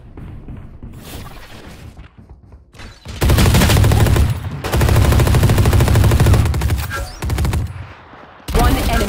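Rapid automatic gunfire from the tactical shooter Valorant fills most of the clip in loud, dense bursts with brief gaps, preceded by quieter game sounds and voice chatter.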